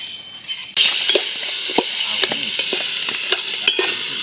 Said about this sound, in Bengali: এবার আমরা চাউল ভেজে নেবো চাউল দিয়ে দিলাম